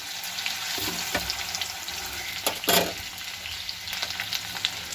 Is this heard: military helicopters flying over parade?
no